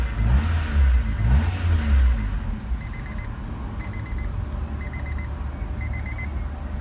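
1991 Acura Integra DB1 engine running at a steady idle, a low continuous hum, slightly louder at first, with repeated faint electronic chimes pulsing over it.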